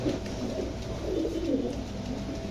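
Pigeons, including Pakistani Teddy and other fancy breeds, coo continuously in low rolling phrases, close and steady with no talking over them.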